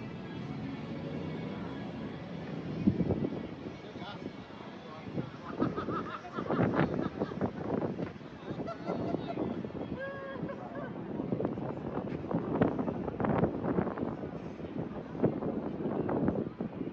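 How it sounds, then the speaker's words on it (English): Gusty wind buffets the microphone outdoors along the Las Vegas Strip near the Mirage hotel in the evening, a steady low rumble under distant crowd and traffic noise with muffled voices throughout. "A little windy out."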